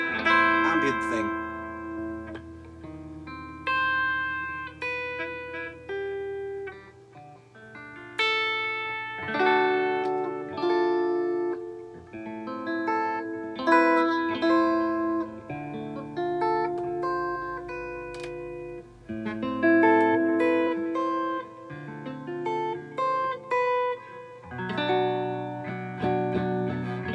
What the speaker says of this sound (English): A lot of reverb.